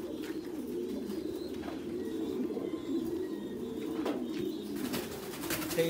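Crossbred pigeons, Thai Titan mixed with American Giant Runt, coo in soft, repeated low calls that run steadily under faint background noise.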